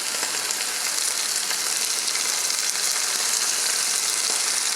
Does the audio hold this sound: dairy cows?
no